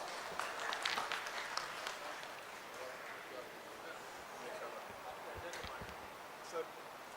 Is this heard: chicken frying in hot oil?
no